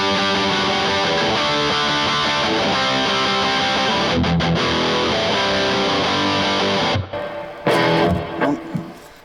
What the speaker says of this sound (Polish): Teraz jestem na mocniejszym przesterze.